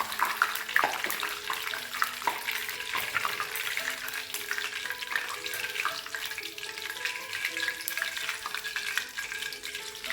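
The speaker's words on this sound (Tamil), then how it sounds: "கருவேப்பிலை பொரிக்கும் போது மட்டும் எண்ணெய் கையில் பிடிக்கலாம் பார்த்துக்கோங்க வெடிக்க ஆரம்பிக்கும்" Curry leaves crackle and sputter in hot oil, a dense, continuous frying sizzle with sharp pops scattered throughout.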